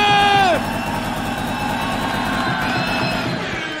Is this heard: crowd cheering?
yes